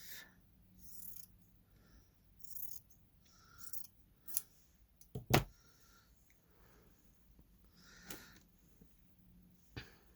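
Scissors snip paper for a vintage sewing junk journal. Several faint, scattered snips and rustles in a quiet room, with one louder sharp cut near the middle.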